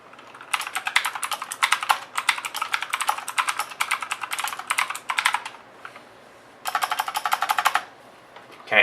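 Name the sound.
typing test on Red Dragon Vizsnu blue-switch mechanical keyboard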